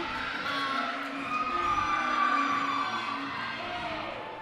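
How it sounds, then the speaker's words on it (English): Indoor crowd cheering and whooping at a collegiate gymnastics championship, a loud sustained roar of many voices swelling in the middle, with a voice talking over it. "All these teams have really great energy, lots of cheering"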